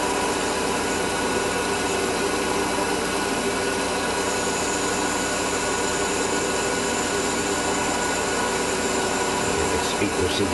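A Webster model engine runs with the throttle opened, a steady, dense, continuous buzzing drone at close range that holds an even level throughout, with a slight change near the end.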